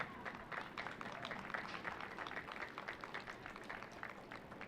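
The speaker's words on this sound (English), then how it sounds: "it probably would be good idea to give them a round of applause right now" A crowd at an outdoor fire department event applauds, a faint, steady patter of clapping at a distance that holds evenly throughout.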